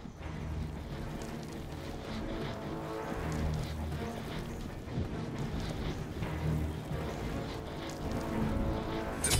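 Steady rain pours down across a video game scene, a dense continuous hiss of drops on surfaces with faint wind and low rumble beneath, holding at a constant level throughout with no talk.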